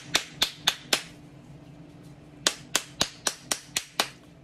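Sharp taps on the top plunger of a Christmas tree bath bomb mold, four quick knocks, a pause of about a second and a half, then seven more in an even rhythm, close and crisp.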